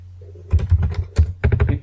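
Rapid keystrokes on a computer keyboard, a burst of clicks in short uneven clusters, close and fairly loud over a steady low hum with no talking.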